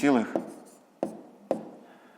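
Numbers are written out while a fifth-grade maths subtraction exercise is solved, with a brief voice at the start followed by two or three sharp, isolated taps of the pen or chalk spaced about half a second apart.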